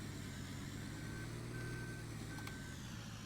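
A truck in Farming Simulator 17 idles with a low engine rumble while a reversing alarm gives three even, evenly spaced beeps over it, quiet and steady.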